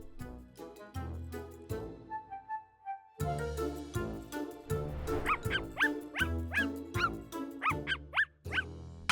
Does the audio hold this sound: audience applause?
no